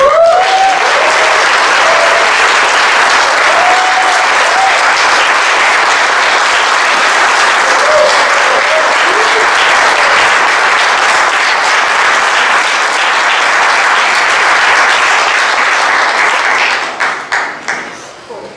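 A crowd at a memorial tribute gives long, loud, sustained applause and noise for departed friends, dense clapping that holds steady and then fades out near the end.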